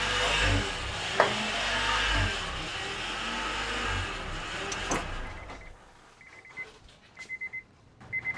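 A Honda Accord SV4 engine runs after starting on a new battery, a close steady rumble that cuts out around the midpoint, followed by several short electronic beeps in near quiet.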